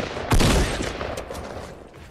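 Gunfire in the Fortnite video game, a loud close shot burst that decays quickly, followed by fainter scattered shots.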